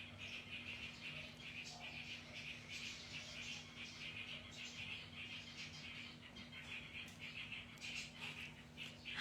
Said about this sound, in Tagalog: Nakakatuwa yung mga ibon natin sa labas, maiingay sila.